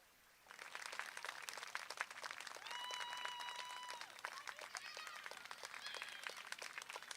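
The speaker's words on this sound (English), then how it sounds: "Let's all give Penn a big round of applause." An audience breaks into sustained applause for an honoree at an award presentation, dense clapping starting abruptly and holding steady, with a whistle or cheer rising briefly over it midway.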